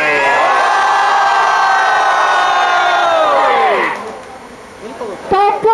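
A rap battle crowd roars, cheers and shouts in one loud sustained burst that fades after a few seconds, and then a voice speaks over the thinning noise.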